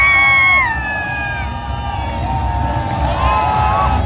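A large crowd at the Wagah Border ceremony on the India–Pakistan border shouts, whoops and cheers loudly and steadily, with sustained high-pitched yells rising over the din throughout.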